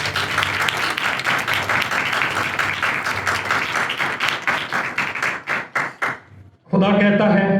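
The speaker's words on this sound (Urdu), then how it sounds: "اپنے خدا کے لیے زوردار تالیاں بجائیں" A church congregation claps loudly during a sermon, dense applause that breaks into slower, individual claps before tapering off, then a voice resumes speaking.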